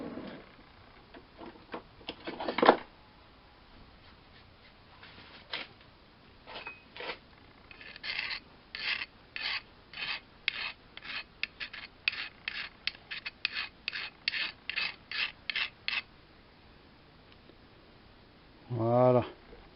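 A small hand file deburrs a metal part in the workshop. After a few scattered knocks, a long run of short, regular rasping strokes follows at a close, quiet level, ending with a louder rustle.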